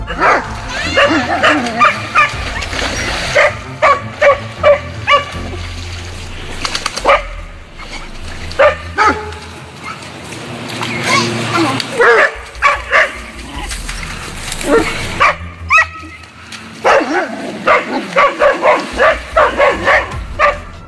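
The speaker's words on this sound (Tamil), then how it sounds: "இங்க நாய்க்கும் கங்காருவுக்கும் இடையில சண்டை நடந்திருக்கு." A dog fighting a kangaroo barks, yips and whimpers in repeated sharp bursts, loud and close, with scuffling noise between the outbursts.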